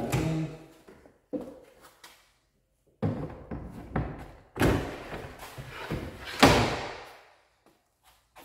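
Cabinet drawers on a ready-to-assemble modern European series cabinet slide back into place, giving several separate thuds and knocks, close and fairly loud, with gaps of quiet between them.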